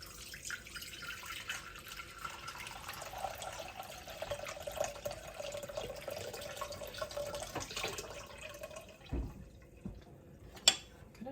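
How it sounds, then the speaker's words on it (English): Dandelion tea mixture for jelly is poured and strained through a cloth, giving a faint, steady trickle of liquid with soft drips close by, ending in a few louder splashes. "we have our tea mixture and we're gonna strain it"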